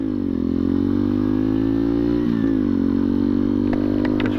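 A 2021 Bullit Hero motorcycle with knobbly tyres being ridden, its engine droning loud and steady with slight pitch shifts as the throttle changes, heard close and continuous.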